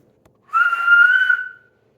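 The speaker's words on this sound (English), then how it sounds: "She put 2 fingers to her mouth and whistled very loudly." A loud two-finger whistle: one sustained, piercing, shrill note lasting about a second, heard alone in otherwise quiet surroundings.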